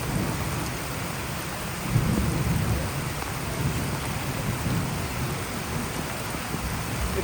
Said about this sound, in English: It's tough shooting in the rain.